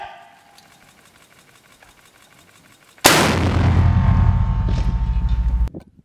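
Rocket fired in heavy combat between French Foreign Legion troops and Marines: after about three seconds of quiet background, a sudden loud blast erupts and roars on for nearly three seconds before cutting off.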